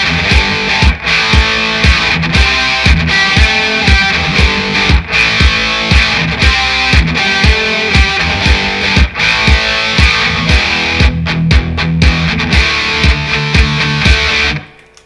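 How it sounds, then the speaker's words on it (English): Loud distorted electric guitars play a pop-punk part, a chugging palm-muted rhythm under a ringing lead line, steady and dense for about fourteen seconds before stopping abruptly. "Okay, so that's the rhythm and the lead together."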